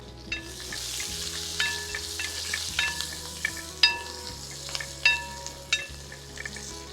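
Curry leaves crackle and sizzle in hot oil in a pan for a beef dry fry, with sharp popping bursts over a steady frying hiss and no talking.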